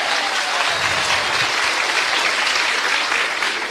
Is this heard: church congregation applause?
yes